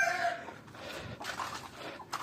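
Free-range chickens cluck and squawk in a noisy coop, several birds calling in bursts with no talking.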